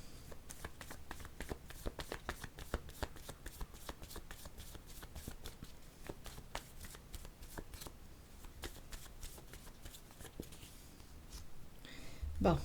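Tarot cards being shuffled and drawn, a dense run of quick riffling snaps and flicks close by, continuing steadily with a brief louder handling noise near the end.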